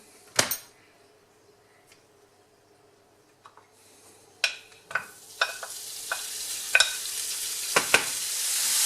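Lardons start sizzling in hot neutral oil, the frying hiss building steadily, punctuated by clinks and scrapes of a utensil stirring in the pan.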